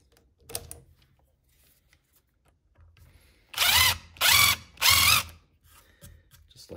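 A power drill fitted with a countersink bit bores into wood in three loud, even bursts of whirring, each about half a second long, after a few quieter clicks and handling noises.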